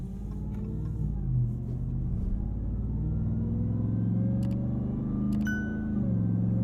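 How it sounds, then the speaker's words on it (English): A truck engine idles and revs with a steady low rumble, a thin supercharger whine riding on top and rising slightly as the engine picks up. "You can just hear that supercharger."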